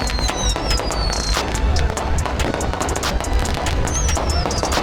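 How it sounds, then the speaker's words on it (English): Fireworks crackle and pop in rapid bursts, with whistling rockets streaking upward amid a constant noisy crowd din. "Got the fireworks going off."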